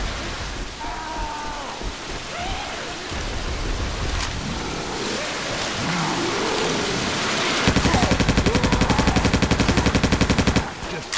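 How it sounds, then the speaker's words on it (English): Rapid automatic gunfire from a zombie video game, starting as scattered shots and building into a sustained, fast machine-gun burst near the end, loud and close with no talk over it. "Just keep shooting."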